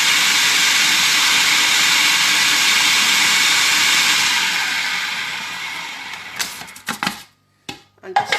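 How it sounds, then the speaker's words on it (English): Butter being whisked into a biscuit crumb mixture in a kitchen gives a steady, hissing scrape that runs continuously, then fades and breaks into a few short clatters near the end. "So I'm just going to whisk this up."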